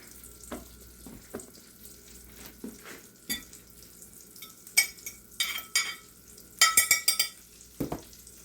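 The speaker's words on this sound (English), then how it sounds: "Into the butter and olive oil frying pan." Fish fries in a pan of butter and olive oil while utensils scrape and clatter. Brief bursts of sizzling, a running tap and stirring sounds come and go in a kitchen with no talk.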